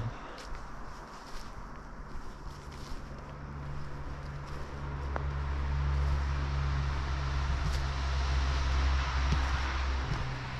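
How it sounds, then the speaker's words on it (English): Steady broadband road noise from passing car traffic heard near a forest, a continuous wash swelling slightly louder toward the end, with faint rustling nearby. "Hard to hear anything with all the car noises."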